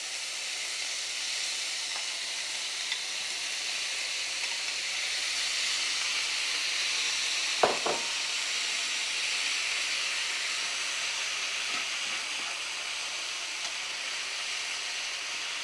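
Pernil pork frying in a hot pan, giving a steady, close hiss of sizzling fat with a brief clatter partway through.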